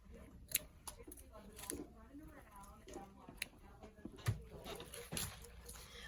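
Scissors snip floral ribbon for a Christmas wreath swag, giving a few faint, sharp cuts spaced a second or two apart over quiet room background.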